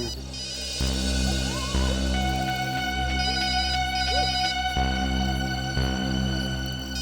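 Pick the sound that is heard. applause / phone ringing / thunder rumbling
phone ringing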